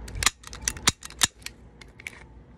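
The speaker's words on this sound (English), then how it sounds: "Clip comes out." Glock 19 BB pistol having its magazine ejected, a quick series of sharp plastic-and-metal clicks and clacks, close and crisp, with a few stronger snaps among lighter ticks.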